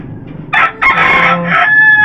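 Young pullets on a backyard poultry setup give loud, close clucking and crowing-like calls in a short burst of several squawks.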